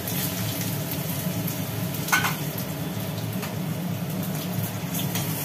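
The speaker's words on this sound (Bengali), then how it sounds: "এবার ওই তেলের মধ্যেই আলুগুলোকে একটু ভেজে নেওয়া হবে।" Potato pieces fry in oil left in the pan after fish, a steady broadband sizzle running throughout at moderate level with a brief louder crackle midway, no talking.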